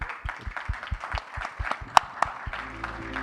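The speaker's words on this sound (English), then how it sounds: "So big applause to the amazing panel" Scattered applause for a panel at a MedTech conference in Dubai, a thin run of individual claps at a moderate distance that fades out after a few seconds.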